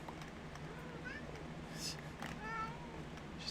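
A pet cat meowing close to a microphone, several short, bright mews coming in quick succession over a low hum of room noise.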